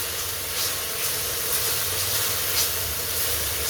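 Onions sautéing on an induction cooker, a steady close hiss and sizzle with gentle crackling, continuous and fairly loud with no talk.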